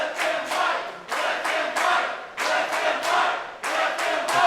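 A pro wrestling crowd claps and cheers after a match, a loud, dense roar of clapping that surges in waves with brief dips between bursts, with no talk over it.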